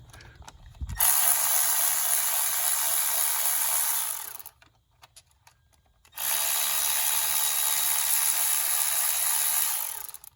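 A 10 mm ratchet works the valve cover bolts on a Toyota Camry, giving two long, steady, close runs of dense clicking separated by a short pause.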